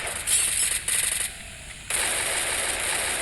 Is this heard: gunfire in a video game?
yes